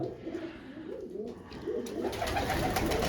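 Several red bearded pigeons coo together in a coop, a continuous low rolling murmur that swells slightly louder toward the end, close and unbroken.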